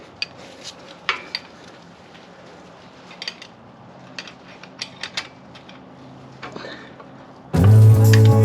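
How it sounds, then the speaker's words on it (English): Wrench on a motorcycle engine bolt gives scattered light metallic clicks and clinks while a hand works the tool, ending in a sudden loud burst of noise at close range. "Let me grab the wrench."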